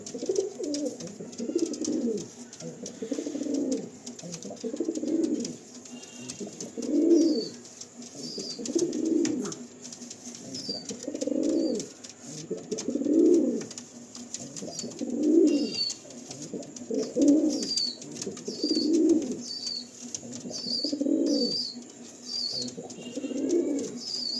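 Repeated low coos from Kalanka pigeons at a pigeon loft, in a steady rhythm, close by, with faint higher chirps and twittering in the background.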